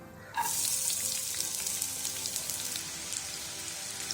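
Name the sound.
onion frying in oil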